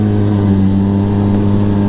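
A 2012 Polaris RZR 800 S side-by-side runs across a field, its engine a loud, steady, close drone held at high throttle for the full stretch, with no voices.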